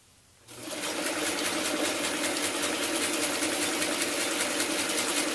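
Sewing machine starts up after a brief quiet moment and runs steadily at a fast, even stitching pace, a smooth continuous whir close by with no talking.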